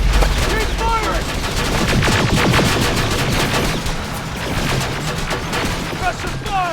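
Rapid, sustained gunfire in Terminator Resistance, a dense fusillade of automatic bursts and single shots crackling throughout, loud and continuous amid chaotic combat noise with voices mixed in.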